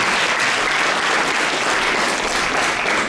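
Sustained audience applause in a studio hall for a live Bulgarian TV talk show, dense steady clapping from a crowd filling the whole stretch without pause.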